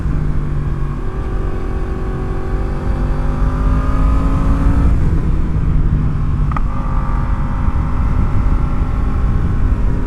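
Yamaha FZ-10 motorcycle engine pulling hard during a ride, loud and close, with rising revs climbing through gears, a brief drop at a shift, then another long climbing pull under steady wind rush.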